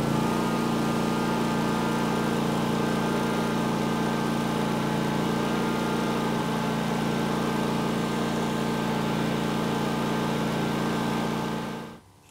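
The propane-fueled engine of a Pioneer Eclipse 420 BU floor burnisher, at operating temperature, runs with a loud, steady, even hum and whine that holds constant throughout before cutting off abruptly at the end.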